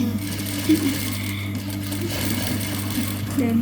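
A sewing machine stitches a seam line on chiffon fabric, a steady continuous mechanical whir running throughout with a faint voice murmuring underneath.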